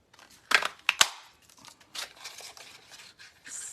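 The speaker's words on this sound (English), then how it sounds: "we're going to take our punch and punch these out." A handheld paper punch cuts stamped cardstock submarine pieces, giving two crisp, close snaps in quick succession followed by soft paper rustling and light handling noises.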